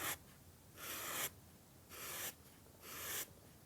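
An alcohol marker's chisel tip drags across paper in three separate broad, hissy strokes, each about half a second long, close-up and fairly quiet with pauses between them.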